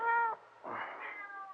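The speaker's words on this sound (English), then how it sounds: "Sounds like a cat." A cat meows twice, a short clear call followed by a longer drawn-out one, close by with no other sound.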